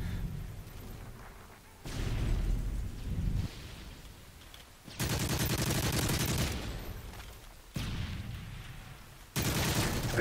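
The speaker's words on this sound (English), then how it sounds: "I sprayed him. That was hip firing, and just none of them hit." Video game gunfire from hip-fire sprays in a capture-the-flag match, loud bursts of rapid automatic shots in several separate blocks with quieter gaps between them.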